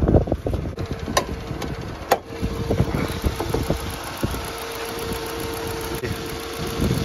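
A Rover 200 car engine idles with the hood open, a steady close mechanical rumble with a faint ticking rhythm and a few sharp knocks and clicks early on, with no talking.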